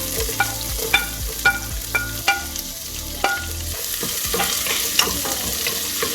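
Garlic and onion fry in a hot pan for a Kerala cashew nut curry, a steady sizzle under repeated scraping strokes of a spoon, close and fairly loud, with no voices.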